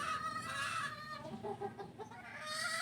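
Hens and stags cluck and call together in a close, busy flock, with overlapping chatter running continuously through the short stretch.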